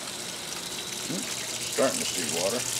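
Two washers, a 1978 Maytag A408 and a 2017 Speed Queen 8 Series, fill with water as a steady rushing hiss, with a faint voice briefly over it.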